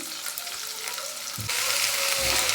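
Toor dal and radish frying on a low flame for sambar, a brief soft sizzle with light stirring, growing a little louder and fuller partway through.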